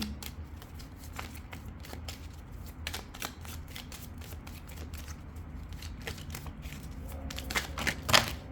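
Tarot cards are shuffled by hand in a run of quick papery riffles and taps, close and fairly quiet, ending in a louder flurry.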